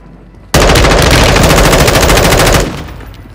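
A loud, sustained burst of automatic gunfire in a video game, a dense rattling stream of rapid shots lasting about two seconds before cutting off and fading.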